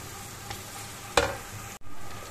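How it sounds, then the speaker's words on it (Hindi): Whole spices fry in a pan of hot oil for a fish dish, giving a steady, close sizzle with one sharp clink of a stirring spoon partway through and a brief drop before the frying resumes. "और थोड़ी देर से भी फ्राई करेंगे ताकि इनकी अच्छी सी खुशबू आना शुरू हो जाए"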